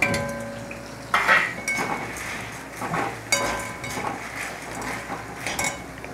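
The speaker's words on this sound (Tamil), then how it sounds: "இப்போ இதை கொட்டி வறுக்க போகிறேன்" Spice powder poured into hot oil in a pan and roasted, with metal clinks and scrapes of a spoon against the pot over a light frying hiss, in irregular bursts.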